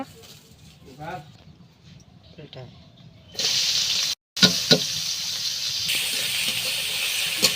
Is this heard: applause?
no